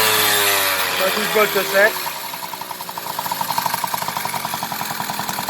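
An MBK 51 AV10 moped engine revs up after about two seconds of talk, settling into a steady buzzing run with fast even pulses, close and fairly loud, a voice speaking over the start.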